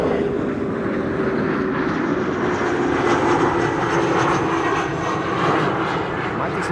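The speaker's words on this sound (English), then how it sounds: "this is SAS Flight 2551 arriving from Copenhagen, and this is a CRJ" An SAS CRJ1000 regional jet arriving from Copenhagen on a frosty, sunny morning at Amsterdam Schiphol roars steadily and loudly throughout, a broad engine rush with a faint whining tone, while a voice talks over it.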